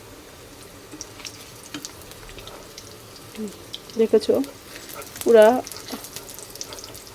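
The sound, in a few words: washing a wok under the tap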